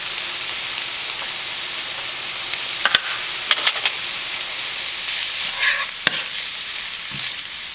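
Chopped celery and carrots sizzle steadily in olive oil in a pan, making a constant close hiss with a few soft stirring clicks and scrapes.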